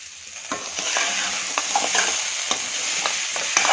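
Jackfruit seed and potato curry with chili powder frying in a pan, with a steady close sizzle and repeated stirring scrapes every half second or so, no voices.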